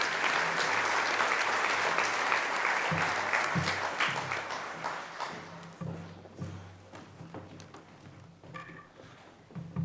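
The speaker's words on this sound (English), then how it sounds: "I think they deserve another round of applause" Sustained audience applause at a Grade 9 school prize-giving evening at Westering High School, loud dense clapping that gradually thins and becomes more scattered toward the end.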